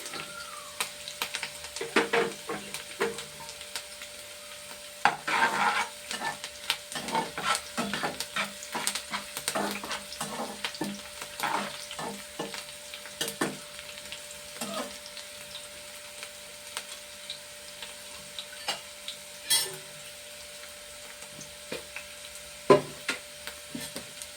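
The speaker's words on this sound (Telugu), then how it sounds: "ఇందులోనే కరివేపాకు వేస్తున్నానండి." Curry leaves sizzle in hot oil in a home kitchen, a steady close crackle with sharper pops and stirring scrapes scattered throughout, with no voices.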